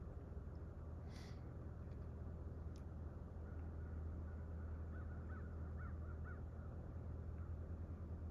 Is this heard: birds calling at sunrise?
yes